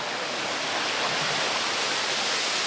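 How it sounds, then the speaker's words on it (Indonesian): Watu Payung waterfall at Segoro Gunung in Central Java pours in a steady, loud broadband roar of falling water, continuous and unbroken with no voices. "Ini kondisi air terjunnya, penonton. Air terjun Watu Payung."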